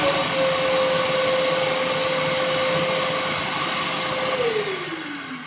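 A shop vacuum draws air through a Dustopper Pro dust separator hose, a loud steady whine and roar running alone throughout, dropping in pitch near the end as the airflow changes.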